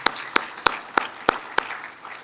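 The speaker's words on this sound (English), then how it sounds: "Clap it up one more time for Mr. Phillip Simmons" Clapping at a workforce development summit, heard as six sharp, evenly spaced claps in quick succession with a brief fading tail and no talking.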